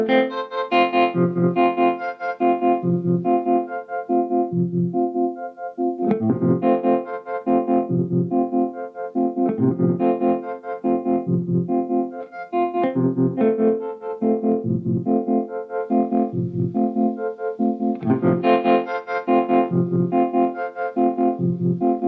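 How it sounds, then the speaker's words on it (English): A Hologram Electronics Dream Sequence pedal with its digitally controlled analog distortion on, run through a loud effects chain. Distorted, chorus-tinged synth-like notes repeat in a steady rhythmic pattern with no talking. "It's a digitally controlled analog distortion."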